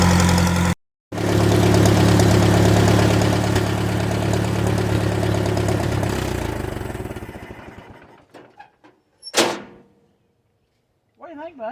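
A Ford 660 tractor engine runs after repair, a steady loud idle with a strong low throb that winds down and stops, followed by a few clanks and brief bumps.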